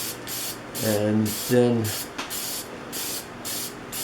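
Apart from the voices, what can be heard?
spraying lacquer onto wooden lathe project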